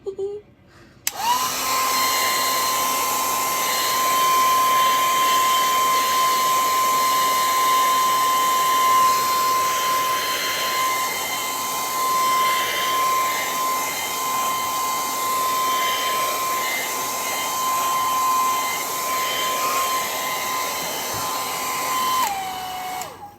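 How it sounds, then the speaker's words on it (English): A hair dryer blows steadily for about twenty seconds, a constant loud whooshing hum with a thin whine, switching on and off abruptly. "I'm gonna blow it with my dryer just to speed it along."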